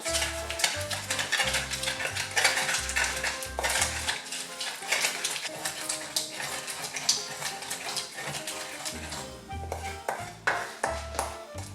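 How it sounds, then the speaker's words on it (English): Pink salt ground in a clay asanka bowl, with repeated scraping and clinking strokes of the pestle over a steady rhythm, while soft background music plays throughout. "So I'm adding in some pink salt. And then grind."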